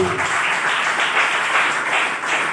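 A crowd applauding steadily for a couple of seconds, a dense wash of clapping with no voices.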